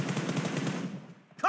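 Rapid automatic gunfire in the PUBG video game, a loud close burst of evenly spaced shots that dies away over about a second, followed by a short voice line.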